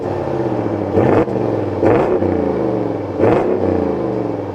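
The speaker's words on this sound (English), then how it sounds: "the exhaust is pretty rowdy. I think you guys might like the noise" A deep, throaty exhaust on a 2026 Ram 1500 Big Horn Night Edition pickup with a Hemi engine revs three times in quick pulses, each swell rising then falling back to a rumbling idle, loud and close.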